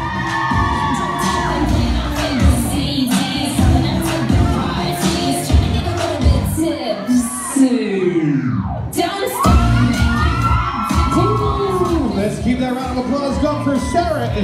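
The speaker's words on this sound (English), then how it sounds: "Ladies and gentlemen, make some noise for Carissa and Frank." A party crowd at a sweet 16 celebration cheers, whoops and shouts loudly and continuously for about fourteen seconds, with excited children's yells and a sweeping swell of noise over background music.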